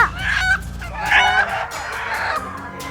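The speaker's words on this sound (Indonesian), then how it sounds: "Jika di kandang ini saja ada lebih dari 300 indukan ayam loh." Hens cluck and call in a coop holding over 300 laying chickens, with repeated close, overlapping bursts of clucking and a crow-like cry, loud and busy.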